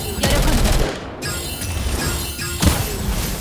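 Video game gunfire from Girls' Frontline 2 rattles in rapid bursts during a boss fight, loud sharp shots with a heavy impact near the end, all close and continuous.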